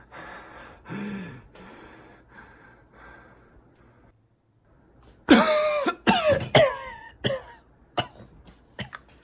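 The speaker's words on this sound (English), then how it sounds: "And this is how I record the breathing." Close, breathy inhales and exhales in quick succession, some gasping or rasping, following a quieter stretch of soft breathy sound.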